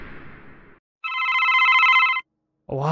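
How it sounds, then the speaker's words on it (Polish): In the Minecraft horror map Oculus, a telephone bell rings loudly in one sustained trill of about a second after a brief silence, with other game sounds before and after. "Wyłącz ten telefon!"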